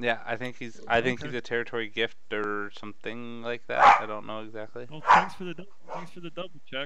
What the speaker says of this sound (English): Sorry about the dog, everybody.